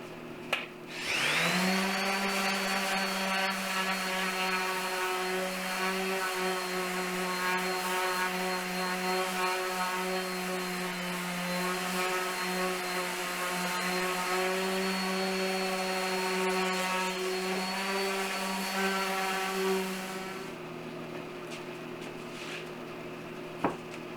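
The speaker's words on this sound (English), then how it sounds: "Now I'm going to sand down the 2x6s and get them ready for glue up" A power sander starts up and runs steadily on 2x6 boards for a farmhouse bench build, a loud close motor whine with a sustained buzzing tone and grinding friction, then spins down and stops.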